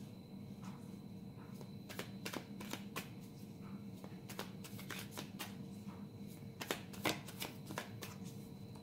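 Tarot cards being shuffled in repeated soft riffling bursts with sharper flicks, close and quiet, with no talking.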